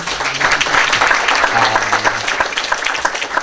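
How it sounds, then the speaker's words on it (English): Audience applause for the panelists at the close of a panel discussion on digital political ads in Europe, dense steady clapping filling the room throughout, with faint low hum and a few murmured voices underneath. "Please thank the panelists with clapping."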